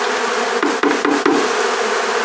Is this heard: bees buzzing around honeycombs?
yes